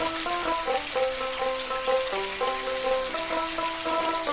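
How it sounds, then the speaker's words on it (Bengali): Green tomatoes with turmeric and salt fry in a pan, giving a continuous soft sizzle and crackle under music with a steady plucked melody. "টমেটোটা একটু ভাজা ভাজা করে নেব"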